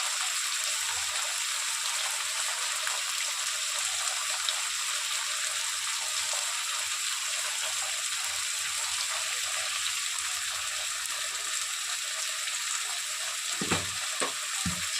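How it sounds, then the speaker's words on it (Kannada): Onions with turmeric and salt frying in oil for capsicum curry, a steady, even sizzling hiss throughout with a couple of brief stirring scrapes near the end. "ಈರುಳ್ಳಿ ಚೆನ್ನಾಗಿ ಫ್ರೈ ಆಗ್ತಿದೆ"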